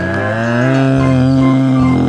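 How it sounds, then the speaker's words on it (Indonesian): A large farm cow gives a long, loud, close moo with a steady drawn-out tone that swells slightly and holds for about two seconds, with no talking. "ini adalah hewan ternak sapi"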